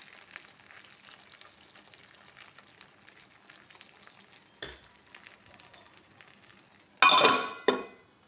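Kunjappam batter poured into a hot, ghee-greased appam pan gives a short, bright sizzle near the end, after a quieter stretch of low kitchen noise and a brief clatter.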